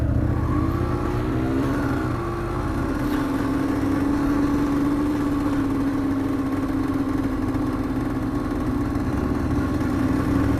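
A cold 125cc motorcycle engine runs steadily nearby, its mid-pitched hum rising slightly in pitch early on before settling into an even idle-like drone throughout.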